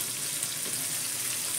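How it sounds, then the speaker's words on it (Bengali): Ginger fries with tomato and salt in a pan over low gas, giving a steady, close sizzle with no talking. "আদাটা ভাজা হয়ে গেছে"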